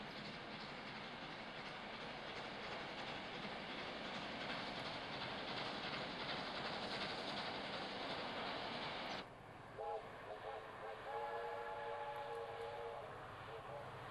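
South Australian steam locomotive 621 runs with its train, a loud steady rolling roar for most of the span that cuts off abruptly, followed by quieter passing sound with a faint tonal whistle-like drone.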